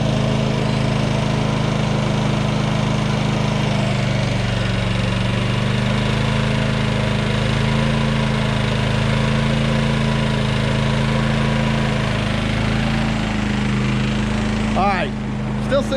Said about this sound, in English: So of course it's gonna make a little bit more noise, but I'm telling you, it's not that loud for a generator